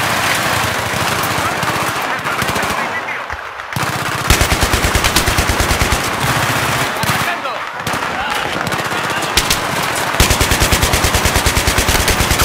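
Battlefield 3 gameplay full of loud, nearly continuous machine-gun fire in long rapid bursts with short gaps, while a player shouts excitedly over it.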